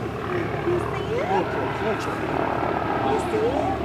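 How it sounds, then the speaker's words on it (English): A SkyCare medical helicopter arriving at Brandywine makes a low pass, its steady rotor and engine roar continuous and fairly near, with people talking over it. "here comes Daddy's helicopter"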